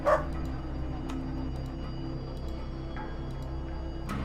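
A dog in the game Underrail gives a short bark at the start, then quieter faint yips over a low steady hum of background ambience.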